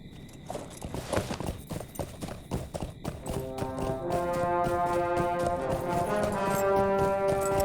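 Horse hooves clip-clopping in the online game Lord of the Rings Online, a brisk rhythmic trot of clear hoof strikes, joined after a few seconds by a swelling sustained musical tone beneath.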